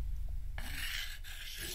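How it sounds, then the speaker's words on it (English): In a visual novel video game, a spear is sharpened with two quick, close rasping strokes of a blade scraping against the point, heard alone. "Oh, sharpening his spear."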